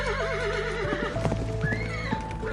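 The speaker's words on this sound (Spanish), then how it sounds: "El trote del caballo iba a una velocidad antinatural." A horse whinnies and snorts, then trots with steady clip-clop hoofbeats as a sound effect for a dark Mexican legend. The sounds play over an eerie musical score with no voices.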